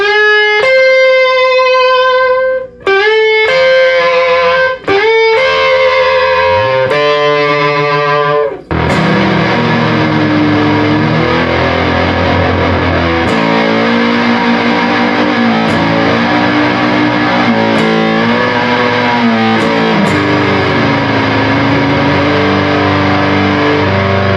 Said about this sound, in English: Throw a little octave distortion on here, overdrive.